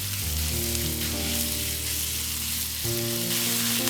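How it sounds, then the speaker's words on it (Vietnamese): Pork belly fries over high heat in a pan with shallots while being stirred, making a loud, continuous sizzle with shifting tones as the pieces are moved around. "Bây giờ mình cho thịt ba chỉ vào, mở lửa lớn và đảo cho thịt săn lại."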